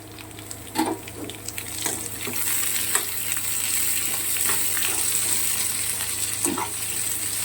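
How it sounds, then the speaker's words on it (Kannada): Chopped capsicum frying in a pan for bisi bele bath, a steady close sizzle running throughout with a few soft stirring clinks, no voices. "ಸ್ವಲ್ಪ ನೀಟಾಗಿ ಫ್ರೈ ಆಗಲಿ ಇದು."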